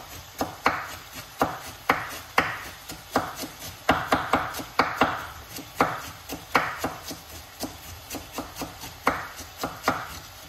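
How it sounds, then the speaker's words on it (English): A knife chops through cabbage on a cutting board in a steady, close run of crisp strokes, about two per second, with no talking. "let's chop up some cabbage"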